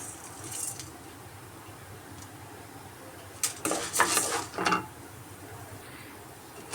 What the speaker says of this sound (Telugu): ఇలాగా రెండు నిమిషాలు బాగా ఫ్రై చేసుకున్నాము